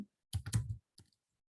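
Several quick keystrokes clatter on a computer keyboard, a burst of close clicks followed by a brief pause and two or three lighter taps, with no voices.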